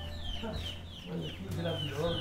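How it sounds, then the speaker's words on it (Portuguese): Backyard chickens cluck and murmur nearby, with a steady run of soft clucks and calls alongside faint background noise on a rural property in Monsenhor Tabosa, Ceará, Brazil. "Eu gosto de criar galinha."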